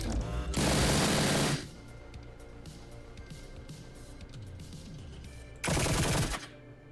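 A weapon fires in the Echoes Lucid9 fangame, two loud bursts of rapid gunfire about a second long each, separated by a quieter stretch of game background sound.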